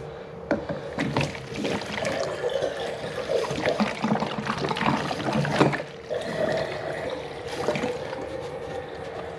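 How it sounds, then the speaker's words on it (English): Water rushes and splashes steadily while a drain pan on a Climate Master geothermal heating unit is flushed out, a continuous close gurgling wash with no talk. "Flush the pan out."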